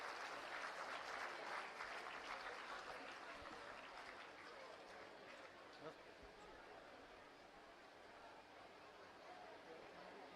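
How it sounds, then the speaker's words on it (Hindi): An audience at a new school block inauguration applauds to welcome the secretary, steady close clapping that slowly thins out over about ten seconds. "एक बार जोरदार तालियों से आइए हम सर का स्वागत करें"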